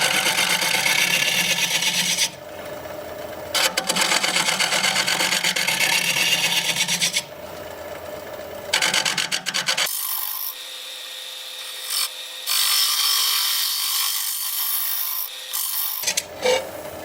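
Punky buckeye wood turning on a lathe gives a loud, rasping scrape that cuts in and out in long passes, with sharper hissing tool contact near the end and no talk.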